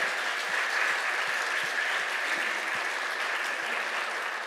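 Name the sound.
church congregation applauding the choir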